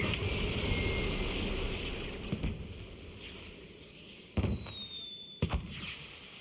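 Fireworks burst in the Borderlands 4 video game, a few sharp distant bangs and crackles over a steady rushing ambient bed, with a thin whistling streak rising before one pop.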